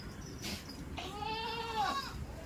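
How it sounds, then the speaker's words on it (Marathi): A goat in a home livestock shed gives a single clear, wavering bleat lasting about a second, heard close over low background rustle. "आत्ता तुम्हाला दाखवलं आहे शेळ्या."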